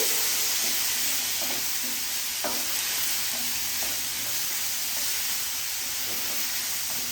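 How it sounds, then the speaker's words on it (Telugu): Carrot, ginger, coconut and tomato pieces sizzling in oil in a pan, a bright continuous hiss with scattered scraping taps from stirring, steady and near, no speech. "క్యారెట్ ముక్కలు అల్లం ముక్కలు కొబ్బరి ముక్కలు కూడా మంచిగా ఆయిల్లో మగ్గాయండి ఇప్పుడు ఇప్పుడు దీంట్లో టమాటా ముక్కలు కూడా వేసుకొని కలుపుకోవాలండి"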